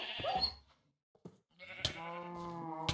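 Sheep in the Minecraft video game bleating several times, a few brief wavering baas with short gaps between them, clear and close at moderate volume.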